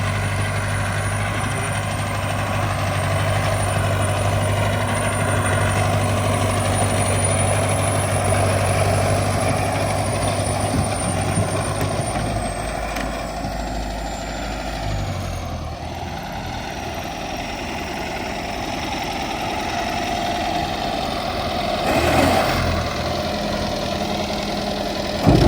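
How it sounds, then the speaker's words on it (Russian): A Soviet-era ditch digger's diesel engine labouring steadily on a return pass, a loud, close, continuous drone that dips in pitch midway and then settles, with no voices. "Канавокопателем. Пошел на обратный проход."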